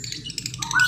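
A male lovebird gives a brief, shrill, close squawk that rises into a sharp chirp near the end, with light background noise and no voices.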